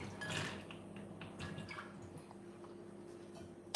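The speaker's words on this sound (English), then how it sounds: "So you want to just wash it until the water becomes clear." Soaked almonds being rubbed and washed by hand in a bowl of water, soft sloshing and wet rubbing with a few light clinks, quiet and close, no talk.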